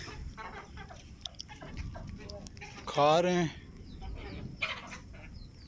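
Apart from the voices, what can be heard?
chickens clucking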